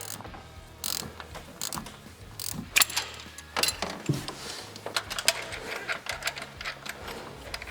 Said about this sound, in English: we'll torque these upper valve cover bolts to 71 foot-pounds